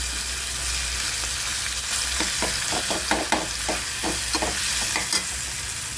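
Spiced masala for a rajma bean curry frying in a pan, a steady sizzle underneath as a spoon scrapes and stirs in a quick series of clicks through the middle of the stretch, no talking.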